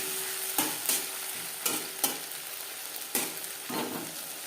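Green chilli and ginger paste being stirred into an okra curry, with a few scraping spoon strokes over a soft steady sizzle of hot oil, close and fairly quiet, no voices.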